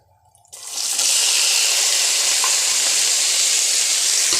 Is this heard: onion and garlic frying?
yes